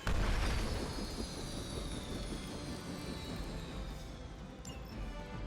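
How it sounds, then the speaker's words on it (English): In the video game Marvel's Midnight Suns, a helicopter goes down with a loud crashing boom that opens the clip, followed by a sustained roaring rumble with descending whine tones fading slowly. "You've grounded the helicopter."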